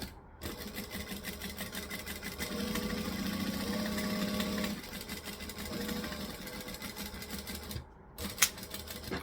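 A sewing machine runs a half-inch seam at a 2.5 stitch length on a Kayla Bag by Mekaposh, whirring in a fast, even rattle for several seconds, briefly easing off midway, then stopping with a couple of faint clicks.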